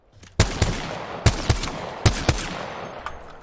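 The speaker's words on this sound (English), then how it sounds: "Make sure you're staying still when you shoot and move in and out of each bullet, and you'll be really accurate with the Scout at hipfire." Scout rifle fired from the hip in the video game Apex Legends, six sharp loud shots in three spaced pairs, each pair a quick double tap with a short decaying tail.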